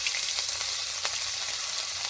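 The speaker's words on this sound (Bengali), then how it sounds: "রসুনটা একটু ভেজে নেবো।" Chopped garlic, ginger and green chilli fry in a little oil, a loud, dense and steady close sizzle with faint stirring ticks and no voices.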